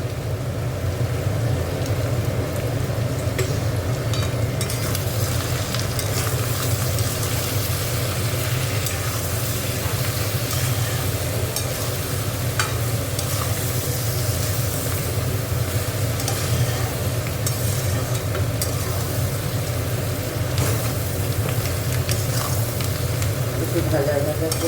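Dried fish frying in a pan with turmeric, chilli powder and salt while being stirred: a steady, dense sizzle with low rumble that continues throughout under ongoing talk.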